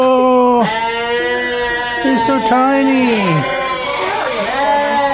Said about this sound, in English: They're goats.